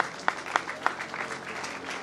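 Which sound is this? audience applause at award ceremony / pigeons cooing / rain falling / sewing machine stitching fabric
audience applause at award ceremony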